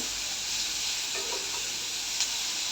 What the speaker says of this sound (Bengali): সব চিংড়ি মাছগুলো দিয়ে দিলাম এখন একটু হালকা করে ভেজে নেব